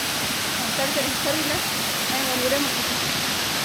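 Near the Ermayi waterfall in Karnataka's Belthangady area, falling water makes a dense, loud, constant rush, with voices talking faintly underneath.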